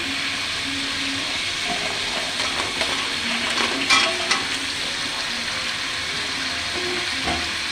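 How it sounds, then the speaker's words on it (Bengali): River crabs fry in a pan of cooked spice masala, giving a steady close sizzle with scraping stirs and occasional clatters of the spatula against the pan. "আমার মশলা কষানো শেষ, আমি এখন কাঁকড়াগুলো সব দিয়ে দেব।"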